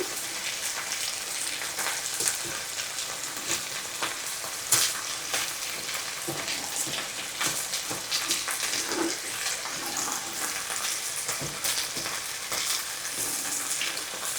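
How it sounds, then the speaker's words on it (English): Rice browns in a hot skillet, a continuous soft sizzle and crackle with occasional stirring scrapes, close and fairly quiet. "I'm going to put my rice in here and brown it for about 2 to 3 minutes."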